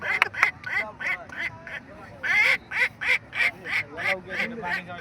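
A man imitates a duck quacking by a river, voicing a rapid run of nasal quacks in short bursts, loud and close, with a brief pause before another quick series.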